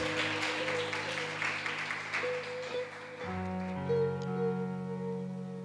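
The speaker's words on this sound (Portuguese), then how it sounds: "Dê um forte aplauso ao Rei Jesus por esse nome poderoso e pelo sacrifício de Jesus." A church congregation applauds during a celebration service, with a wash of clapping over sustained musical tones that grow stronger midway.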